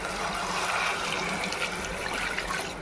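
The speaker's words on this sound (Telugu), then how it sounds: "వాటర్ పోసుకుందామండి" Water is poured into a pot of chicken curry, a steady close splashing trickle that runs without a break.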